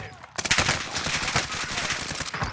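Rapid automatic gunfire from Call of Duty Warzone rattles in a dense, loud burst of overlapping shots, with an assault rifle chattering almost continuously after a brief quiet start.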